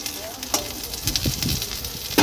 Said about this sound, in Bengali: পটল আলু এখানে তুলে ভেজে নিচ্ছি